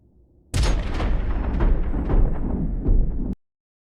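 A gunshot in an action film hits as one sudden loud blast that cuts to a dense, rumbling roar for about three seconds before stopping abruptly.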